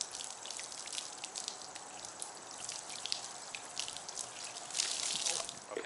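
Water poured from a pitcher splashing and trickling over a car's freshly waxed, gloss-enhanced paint, a steady dripping patter with a louder gush near the end, no talking.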